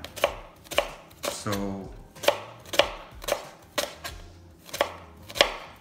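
Knife slicing through fibrous leek on a cutting board, about ten crisp evenly spaced chops close up, with a brief spoken word between cuts.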